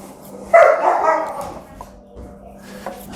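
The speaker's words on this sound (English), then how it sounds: "Silly dogs are going crazy again over there playing." Dogs barking while playing nearby, one loud close bark followed by a few fainter yips and woofs in an otherwise quiet kitchen.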